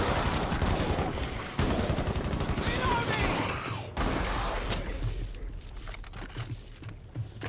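Machine gun fire from the video game Outbreak, rapid sustained bursts of loud automatic shots with brief pauses between volleys, heard alongside game sounds.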